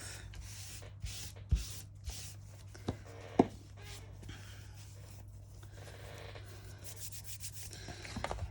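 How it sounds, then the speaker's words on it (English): Excess glue is wiped off paper with a damp cloth while a junk journal page is assembled. Soft, quiet rubbing and scrubbing runs through the clip, broken by a few faint taps and knocks, with no speech. "I'm just going to get that excess glue off."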